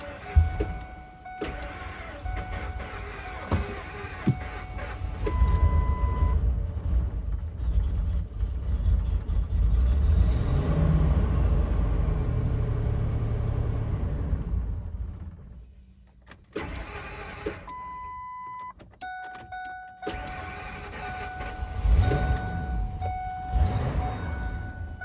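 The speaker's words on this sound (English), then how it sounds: "I got all the plugs and coils in. Let's hope it cranks up and runs better." A Ford Excursion fitted with new spark plugs and coils cranks and catches, then a long, loud engine run builds and fades. Shorter whirring bursts and tonal beeps come after, close by with no speech.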